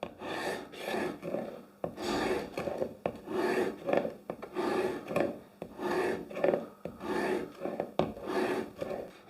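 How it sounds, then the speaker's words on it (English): A blade is honed to a micro bevel on an oiled 1200 grit diamond plate, giving about a dozen quiet, even rasping strokes in a steady back-and-forth rhythm, close up with no talk. "15 to 20 strops on the 1200 grit on the diamond plate."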